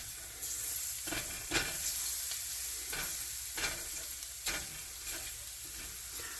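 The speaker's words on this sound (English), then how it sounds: "I'm going to go ahead and stir this again" Chopped garlic sautéing in a pan for channa masala, a constant bright sizzle broken by several distinct scraping stirs at a steady, unhurried pace, close and moderately quiet.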